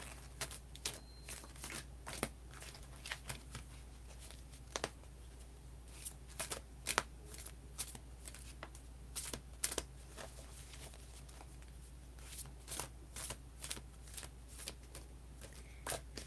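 Long tarot cards shuffled by hand, a faint, steady run of soft riffling and paper slaps with sharper snaps at irregular intervals over a low constant hum, with no voices.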